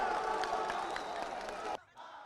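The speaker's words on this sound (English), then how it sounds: "Crowds of Sudanese people outside the hall broke out in celebration after the announcement" A jubilant crowd of Sudanese people outside a hall celebrates the constitutional declaration announcement with a dense mix of shouting, cheering and clapping. The sound is cut off sharply near the end, leaving quieter background noise.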